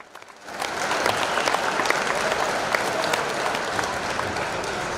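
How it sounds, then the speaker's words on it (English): A crowd at a high school wrestling event breaks into loud, sustained applause for the seniors, swelling quickly after a quiet start, with individual claps standing out in the dense mass. "Please give one more round of applause for our 5 seniors"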